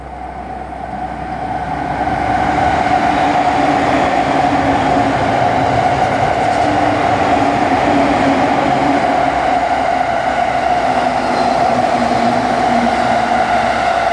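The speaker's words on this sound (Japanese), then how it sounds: "また列車来んの？" A train rolls into a station near Oimachi, Tokyo, swelling over a couple of seconds into a loud, steady rumble with a sustained mechanical whine on top.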